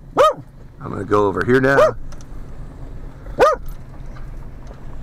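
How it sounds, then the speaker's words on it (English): A dog barks outdoors during a drone follow-me flight test, with one sharp bark near the start and another a few seconds later, fairly close, while someone talks between them. "sorry about all the barking"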